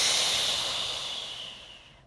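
A long, steady exhale during a Pilates core roll-up, a soft breathy hiss that fades gradually over two seconds, close and fairly quiet with no talking.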